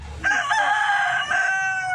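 A rooster crows once close by, a loud drawn-out call lasting a couple of seconds with no voices over it.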